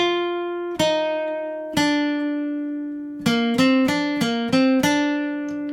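A clean guitar plays a short single-note riff, a few sustained notes and then a quicker run of plucked notes that ring out clearly.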